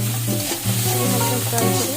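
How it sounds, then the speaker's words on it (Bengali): Rice frying lightly in a pan with salt, a dense close sizzle with soft stirring scrapes throughout a short stretch. "হালকা ফ্রাই করে"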